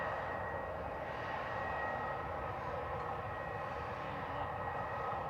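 An EasyJet airliner holds at Manchester Airport, its engines giving a distant, steady low rumble and whine that stays even throughout, with no talk.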